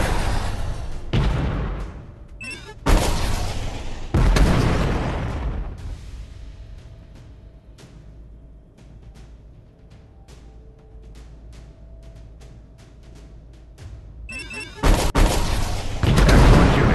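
Gunfire and artillery blasts in the Shadow Strike military shooter game, loud booming bursts in clusters at the start and again at the end, with a quieter stretch between them.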